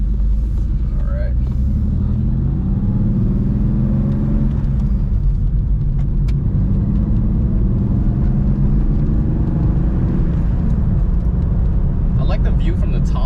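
Porsche 964 RS America cruising on the road, a low steady engine rumble with tire and road noise throughout, heard from inside the cabin.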